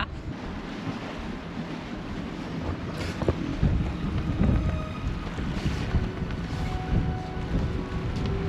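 Wind buffets a sailboat lying at anchor off West End in the Bahamas, a steady roar of gusts with waves slapping the hull. Close microphone rumble swells and eases, with no voices.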